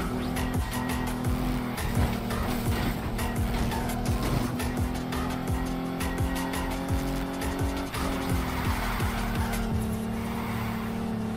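A race car in Need for Speed Heat roars continuously at high revs, with repeated tire squeals and skids over the steady engine drone, close and loud throughout.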